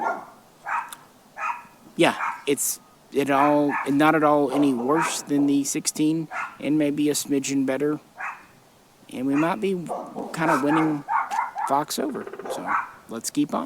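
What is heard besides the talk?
dogs barking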